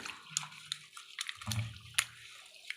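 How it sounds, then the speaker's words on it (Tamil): Soaked rice and lentils being washed in water by hand, close splashing and swishing with a few sharp drips and sloshes, fairly faint with pauses between movements. "இப்போ இதை நல்லா வாஷ் பண்ணி எடுத்துக்கணும்"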